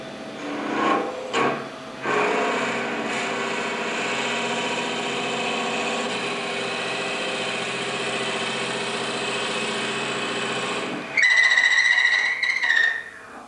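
A wood lathe hums steadily while a drill bit grinds into timber spinning at 875 RPM for several seconds, then a higher-pitched whine rises briefly before stopping.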